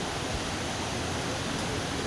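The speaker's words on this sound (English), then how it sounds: "I see a waterfall" A waterfall inside a cave gives a steady, even rush of falling water that fills the whole short stretch without a break. No voices are heard over it.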